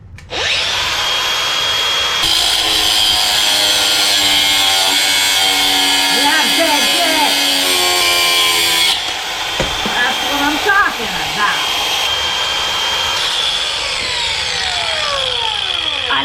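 An angle grinder with a metal cutting disc slices through a motorcycle handlebar, a loud, steady high-pitched whine that shifts in pitch as the cut bites, sounding almost continuously from start to finish.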